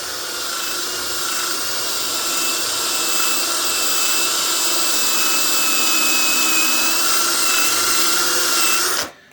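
Sanding a meteorite with a cordless screwdriver produces a loud, steady high whir and grinding hiss that runs without pause, then stops sharply just before the end.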